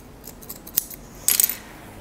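Small scissors snip through fabric for a blouse with a gathered chest, a few separate close snips followed by a quick burst of rapid cutting, with no talking.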